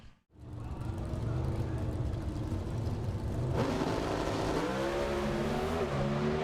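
NHRA drag racing cars launch off the starting line at the Texas Nationals, a loud sustained engine roar and rising rev that swells as the cars pull away, with a crowd-like wash underneath.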